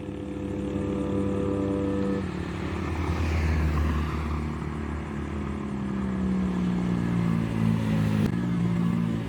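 Honda Click and Suzuki Raider Fi motorcycles racing, a loud steady engine roar that swells and holds for several seconds, with a shift in pitch near the end.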